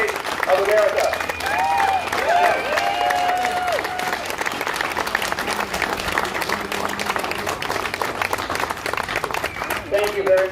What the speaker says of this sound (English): Let's give one more round of applause for Neil Parrott, our future congressman, and all of our Republican candidates for office.